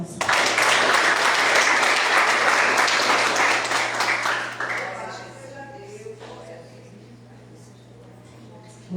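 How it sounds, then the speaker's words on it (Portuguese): A church congregation applauds in praise, a dense burst of clapping that fades after about five seconds, leaving quieter room sound and a few scattered claps. "Aplauda o Senhor."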